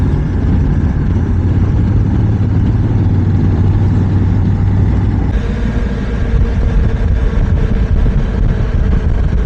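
Motorcycle loaded with luggage cases idling in city traffic near Cannes, a steady low engine rumble that runs loud and continuous throughout, with a slight shift in tone midway and surrounding traffic noise.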